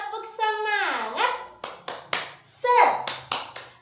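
A group of young children at school perform the tepuk semangat clapping chant, with sharp rhythmic hand claps alternating with their sung and shouted voices, close and lively.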